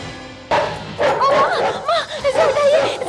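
A police dog-squad dog in a forensic lab gives close, loud barks and excited yips in quick succession, with voices overlapping.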